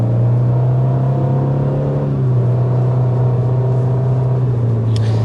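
A 2025 Ford Ranger pickup with a V-6 engine cruises with a steady low drone and road hum from inside the cab, its pitch dipping slightly partway through, loud and constant.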